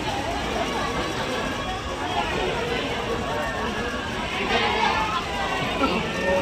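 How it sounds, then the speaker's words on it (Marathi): Dense crowd of devotees at the Rupa Bhavani temple, a steady, continuous murmur of many voices and shuffling movement close around, with no single sound standing out. "असं बघा इथं एवढी गर्दी पडली भरपूर"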